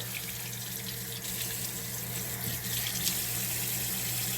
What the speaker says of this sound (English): I am going to give them a little rinse